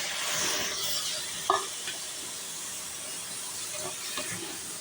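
Washed chicken pieces go into a hot pan of frying masala for chicken curry, giving a steady close sizzle and hiss with a brief clatter as the meat lands and soft stirring scrapes afterward.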